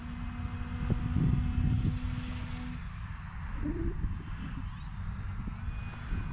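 A HobbyZone Carbon Cub S2 RC plane flies overhead with an electric motor whine that rises and falls as it passes, over outdoor wind noise, fairly near and moderately loud.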